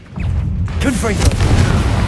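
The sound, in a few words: Confringo fire spell explosion, Hogwarts Legacy video game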